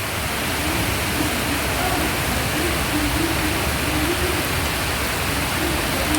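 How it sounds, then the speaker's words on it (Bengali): A steady, loud downpour of rain fills the air with an unbroken hiss and patter, heavy and close throughout. "একদম ঝমঝম করে বৃষ্টি পড়ছে"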